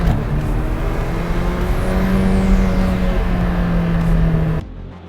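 A Peugeot 205 Turbo 16 mid-engine hatchback pulls hard at full throttle from about 3,000 RPM, its engine note climbing loud and close through the gears, with a brief shift break before the sound cuts off.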